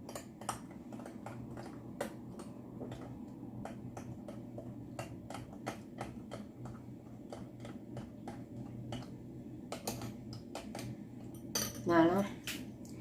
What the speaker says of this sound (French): Je prends la levure et je la verse dans le verre. La mélanger un petit peu.